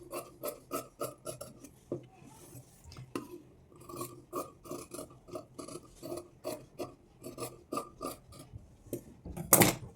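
Blouse fabric being cut with scissors for the back piece, a quiet run of rhythmic rasping snips close by, repeating steadily with short pauses.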